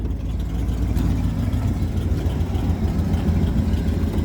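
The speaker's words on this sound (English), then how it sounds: "It's running pretty rough now." A Ford F-150 with a 351 Windsor engine, low on gas, idles roughly under the open hood, a loud deep uneven rumble that runs steadily throughout.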